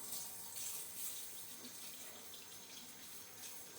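Hot water running from a kitchen tap, a steady, even hiss of flowing water close by that carries on without a break, with no talking.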